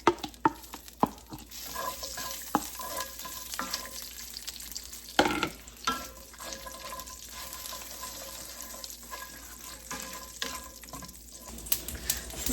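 Cinnamon, star anise, chili, garlic and mustard seeds frying in a pan at home, giving a steady close sizzle with scattered pops and stirring clatter, no talking.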